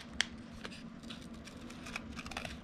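Lightweight chipboard scraps trimmed by hand with scissors while making craft embellishments: faint, sparse snipping clicks close by, with one sharper snip near the start over a quiet room hum.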